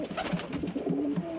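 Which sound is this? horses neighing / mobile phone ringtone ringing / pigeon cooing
pigeon cooing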